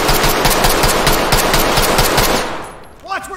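Rapid automatic gunfire rings out in the tactical shooter game Ready or Not. Loud, dense bursts last about two and a half seconds, then fade into a brief ringing tail.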